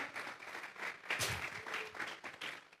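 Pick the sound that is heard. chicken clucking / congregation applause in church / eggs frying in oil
congregation applause in church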